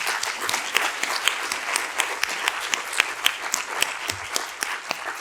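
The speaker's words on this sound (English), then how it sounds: "I think that deserves a round of applause for everyone" Audience applause fills a hall at a doctoral research conference, a steady dense patter of many hands clapping at moderate loudness with sharper individual claps standing out, continuing evenly throughout.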